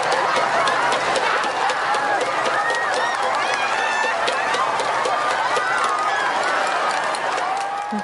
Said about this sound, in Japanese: この大歓声が止まらない